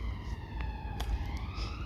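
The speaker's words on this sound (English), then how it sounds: "there goes the ambulance." City ambulance siren wailing at a distance, a faint repeating tone rising and falling steadily over constant urban background rumble, no talk.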